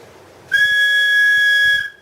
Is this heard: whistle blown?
yes